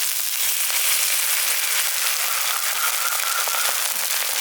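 Water added to a hot pan of frying rohu fish head bursts into a loud, steady sizzle, a close, bright hiss and crackle that never lets up.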